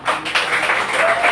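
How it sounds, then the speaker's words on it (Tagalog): Many hands clap together at a prayer group gathering in a dense, steady burst of applause that fills the whole moment. "Ituloy yung palakpak mo."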